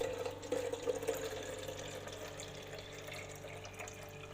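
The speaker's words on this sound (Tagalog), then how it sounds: "Lalagyan natin to ng water." Water pours steadily into the water tank of a Nescafe Dolce Gusto coffee machine, a close, even rush of liquid that softens slightly after the first second, with no talk.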